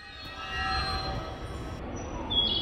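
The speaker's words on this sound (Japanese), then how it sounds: "5番線は貨物列車の通過です。" A freight train passes through Kobe Station on line 5, slowing for a sharp curve, with a steady low rumble of rolling cars and faint high metallic squeals.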